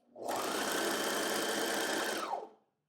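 A Brother AirFlow 3000 serger runs in one steady burst of about two seconds, a close, even mechanical whir that starts sharply and stops cleanly, with no talking.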